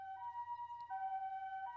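Ambulance siren in the visual novel game Robotics;Notes Elite, a two-tone wail that alternates pitch in a regular cycle, thin and fairly quiet, with a faint low hum beneath.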